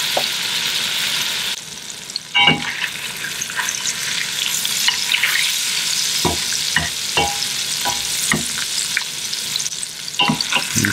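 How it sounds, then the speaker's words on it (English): A mahi mahi fillet pan searing, seasoned with juice and Old Bay over high heat: a continuous bright sizzle with a brief dip, then sharp utensil taps and scrapes punctuating the frying. "I'm going to pan sear it for about a couple minutes on each side"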